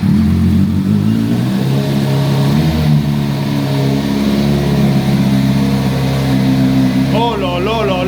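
A motorcycle engine fires up and revs, loud and close, its pitch rising and falling, with a voice briefly audible near the end.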